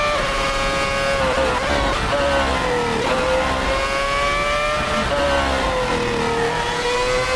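Simulated F1 car engine at Suzuka in Assetto Corsa, a loud high-pitched whine rising and falling steadily through gear changes across the lap, continuous and close with no talk.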